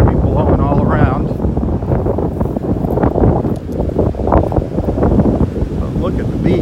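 Strong wind buffets the camera microphone on a beach in North Naples, Florida, a loud, constant rumbling roar that runs throughout while someone talks over it.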